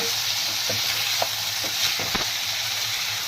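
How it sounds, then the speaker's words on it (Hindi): Mutton fries in a pan with ginger garlic paste as a spoon stirs it: a steady close sizzle with a few soft scraping knocks, and no voices. "मैं इसमें अदरक लहसुन का पेस्ट डाल दूंगी, इसको मिक्स करूंगी"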